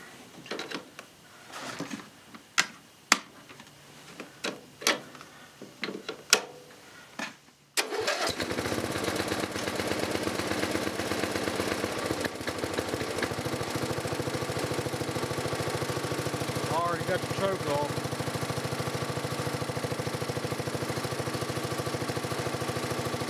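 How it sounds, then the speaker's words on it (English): A rebuilt 12.5 HP Briggs and Stratton small engine, choked at mid throttle in 39°F cold, is cranked after a few sharp clicks, then catches and runs steadily at a loud, even drone to the end with no talk. "I got it choked and it's set for about mid throttle and get the ignition on, so let's see how it starts"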